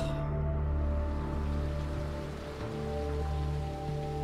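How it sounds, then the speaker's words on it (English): Steady rain falls through a dark, tense scene in Resident Evil 2 Remake, a broad continuous hiss layered over low sustained musical drones, with no talking. "Good ambience, you know, the rain"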